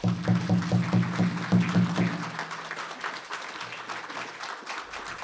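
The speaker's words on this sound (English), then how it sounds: "The Choctaw Nation Color Guard, ladies and gentlemen. Round of applause, please." Audience at a library's American Indian Writers Award ceremony applauds the Choctaw Nation Color Guard, a steady wash of clapping lasting throughout, with a low tonal hum beneath it early on that fades after the first couple of seconds.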